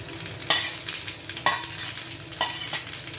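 Long grain rice stir-frying for Japanese fried rice, with a steady close sizzle broken by sharp spatula scrapes and stirs against the pan at about one-second intervals.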